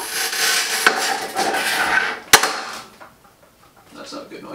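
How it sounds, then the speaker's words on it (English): A piece of plate cracks with a sharp snap while a fridge is pushed out during kitchen cleaning, amid scraping and shuffling, with a smaller crack earlier and quiet voices. "The big noise you heard was a piece of plate"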